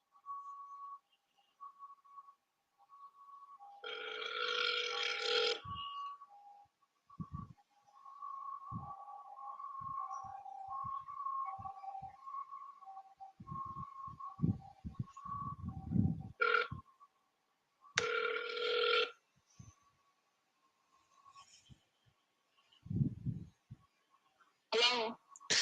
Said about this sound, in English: Calling her from my Florida number.